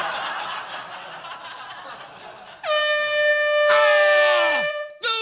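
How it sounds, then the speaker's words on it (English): Soft chuckling gives way to a loud, sustained horn blast that holds for a couple of seconds, then cuts off with a brief final toot. "Bears don't like honks. They think it's traffic."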